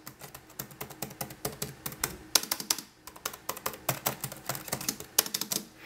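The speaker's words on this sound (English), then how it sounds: "I'll start off by just tapping on a couple of the keys" Keys tapped on a Rii RKM709 wireless keyboard give crisp, fairly quiet clicks in quick irregular bursts with brief pauses, close up and with no talking.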